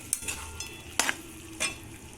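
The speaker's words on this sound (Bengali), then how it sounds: "চিকেন পকোড়াগুলোকে দিয়ে দিতে হবে এর মধ্যে, দিয়ে সেগুলোকে এইভাবে নাড়তে হবে" Chicken pakoras fry in a pan for chilli chicken, a soft sizzle underneath and three distinct scraping stirs of a spatula against the pan, close and moderately loud.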